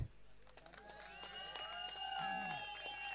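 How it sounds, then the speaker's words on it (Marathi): A crowd applauds the player of the match at a prize ceremony for a local cricket tournament, a short burst of clapping with faint cheering beneath a sustained tonal background. "अभिसाठी टाळ्या होत्यात"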